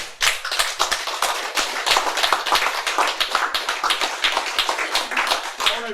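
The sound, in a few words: people clapping hands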